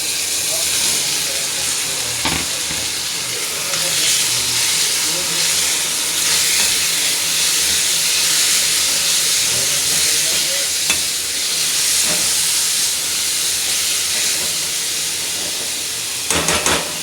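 Onions frying in cooked spice paste in a pan make a continuous loud hiss and sizzle over many seconds, with occasional sharp clicks of stirring and no voices.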